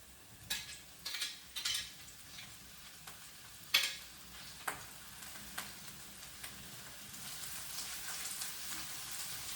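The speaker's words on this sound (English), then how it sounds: "I'm going to drop in the beef slices." Beef slices dropped into a hot pan with soybean sprouts, a steady quiet sizzle with a few sharper crackles and stirring knocks early on, no voices.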